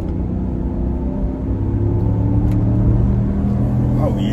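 A Chevy Tahoe SUV accelerates hard, heard from inside as a steady low engine rumble and road drone building over several seconds.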